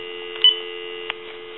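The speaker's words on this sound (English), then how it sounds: "Give you some dial tone." Steady dial tone from a Kellogg wood wall crank telephone under repair, a continuous even hum holding throughout with a brief click near the start and another soft tick later.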